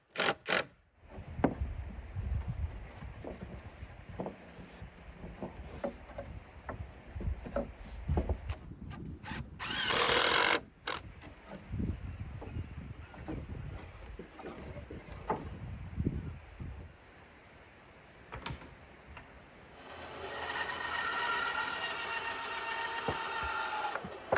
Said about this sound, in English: If it sounds like my mini bandsaw is struggling, it's because it doesn't have the most powerful motor in the world, and it runs on a large battery